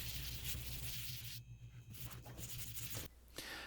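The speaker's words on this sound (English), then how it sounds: "gave the boards a light sanding and then a once-over with a tack cloth" Wooden cornhole boards get a light hand sanding, with quiet, uneven scratchy rubbing strokes close by, broken by short pauses.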